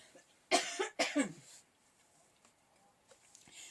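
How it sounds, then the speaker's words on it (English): Two loud, close coughs in quick succession, followed by quiet breathing and faint rustling. "I'm going to cough, pardon me."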